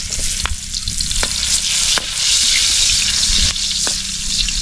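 Garlic and onion sizzle loudly in a hot frying pan, a dense continuous crackle and hiss with a few sharp clicks of stirring, close up and without any talk.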